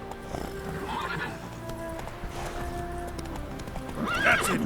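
Roach, the horse in The Witcher 3, gallops with a steady, rapid clip-clop of hooves throughout, then gives a loud whinnying neigh near the end over the game's background ambience.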